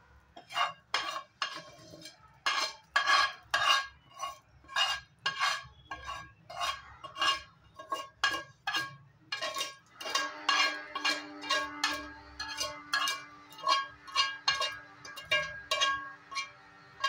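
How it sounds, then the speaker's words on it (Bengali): Semolina being stirred together with fried vermicelli in a pan over a low gas flame for a Holi laddoo, a spoon scraping and clinking against the pan in quick repeated strokes, steady and close, with no talking. "সুজির সাথে সেওইটা আমি খুব সুন্দর করে মিলিয়ে নেব"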